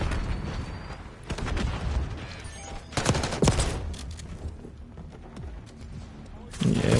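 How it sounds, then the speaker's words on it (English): Gunfire from shotguns in Black Ops 6 Zombies, a dense, chaotic fusillade of repeated sharp blasts at irregular intervals mixed with game noise and a voice talking over the action. "we're just getting overrun by shotguns at this point"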